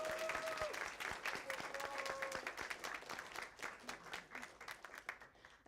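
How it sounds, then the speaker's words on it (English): Applause from an audience at a capstone game presentation, dense steady clapping that gradually thins and fades over several seconds, with faint tonal sounds beneath early on. "a special round of applause for that lovely playthrough from Elon"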